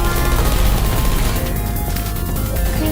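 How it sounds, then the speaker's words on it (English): Loud, dense bursts of gunfire and crashing blasts erupt in the video game Portal, a continuous close barrage with heavy low rumble throughout. "I heard gunfire!"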